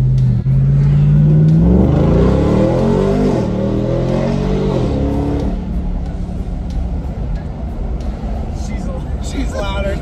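A straight-piped RAM TRX truck with its resonators deleted revs, its deep gargling engine note climbing and falling loudly, then settles into a rough rumbling idle, heard from inside the cab as people talk over it.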